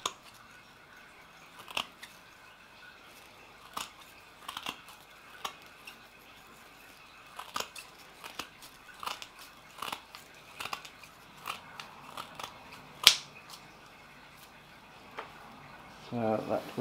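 Quiet snipping and rustling of Japanese filter matting being cut to size for a pond planter filter box, a series of soft scattered cuts with a faint voice in the background.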